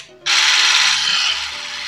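A cordless 7.2 V grass and hedge trimmer switches on after a moment of quiet, then holds a loud, close, steady high-pitched motor whine that eases slightly in pitch.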